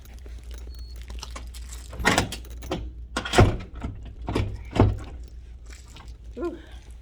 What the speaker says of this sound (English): That's all I'm doing is checking doors.